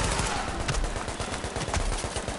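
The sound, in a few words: turret gunfire in video game The Division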